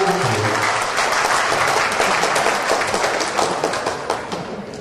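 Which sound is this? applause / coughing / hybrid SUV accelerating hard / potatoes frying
applause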